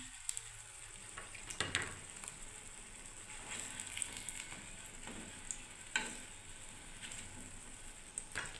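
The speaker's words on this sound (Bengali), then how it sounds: "এবার বেগুন ভাজাটা হতে থাক বন্ধুরা।" Aubergine slices fry in oil in a pan with a continuous close hiss and sizzle, punctuated by occasional clinks and scrapes of a utensil and no talk.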